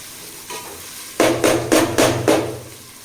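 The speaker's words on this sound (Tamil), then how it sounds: "இப்போ இஞ்சி பூண்டு பேஸ்ட் வந்து நல்லா வதங்கி நல்லா அதோட அரோமா வந்து வர ஆரம்பிச்சிருச்சு" Ginger garlic paste sautéing in a pan for biryani sounds as a close sizzle with a series of four or five loud, evenly spaced scraping stirs partway through, then fading back.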